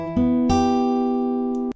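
An acoustic guitar is picked in a short sequence of four notes, bass string then three higher strings, the tones ringing and overlapping before being cut off abruptly.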